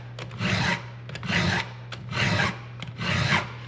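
Four steady, evenly spaced rasping strokes of a Stihl Easy chainsaw sharpener filing a saw chain, each a close, gritty scrape about a second long, with a steady low hum underneath.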